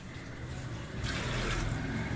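Water poured into a pressure cooker holding soaked chickpeas, a steady close splashing fill that grows fuller and louder about halfway through, with no talking.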